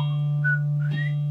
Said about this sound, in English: Whistling these Irish tunes or these old English tunes is very, very cool.